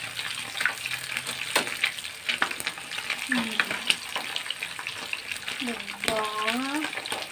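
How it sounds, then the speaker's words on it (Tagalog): Fish fries in hot oil in a pan, a continuous crackling sizzle with sharp spatters throughout, while a person talks briefly over it. "Pero mag-ingat lang sa pagpiprito kasi tumatalsik talaga."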